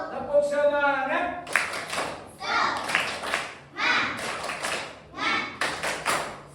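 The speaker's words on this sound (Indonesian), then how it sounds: "Yuk, tepuk semangat." A classroom group claps out a rhythmic spirit cheer in patterned bursts of sharp claps, with children's voices chanting along between and over the clapping.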